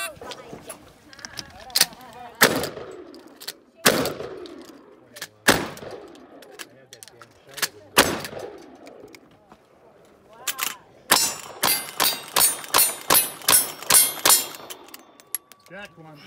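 Gunfire rings out at a cowboy action shooting match, with sharp, loud shots spaced a second or two apart, then a fast rhythmic string of rapid shots near the end. Each blast carries a ringing clang of steel targets, and a voice calls out between shots.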